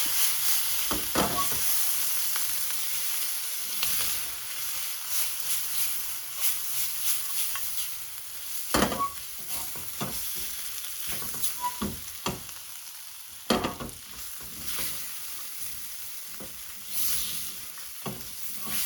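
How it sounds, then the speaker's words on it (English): A pan of curry with tomato puree and spice powder being mixed, a continuous sizzle and fry broken by repeated scraping stirs and clacks of the utensil against the pan. "Give it a good mix."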